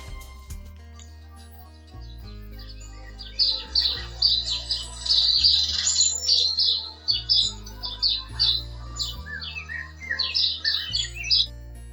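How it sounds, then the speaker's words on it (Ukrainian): Small birds chirp and trill in quick bright bursts over a low, steady musical backing, the song continuing in clusters throughout. "познайомити вас з нашими пернатими друзями. Послухайте, будь ласка, їх чудовий спів."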